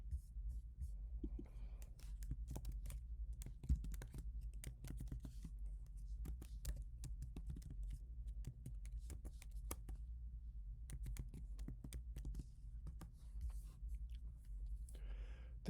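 Soft, scattered computer keyboard clicks as a command is typed into MATLAB, faint and irregular over a low background hum.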